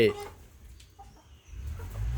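Young Burmese gamecock chickens kept in pens, faint clucks and fowl calls in the background behind a voice talking nearby.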